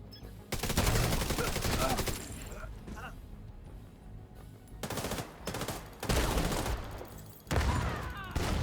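Repeated bursts of automatic gunfire and explosive blasts in the shooter video game The Division 2, with loud volleys separated by short lulls and a raised voice breaking in at times.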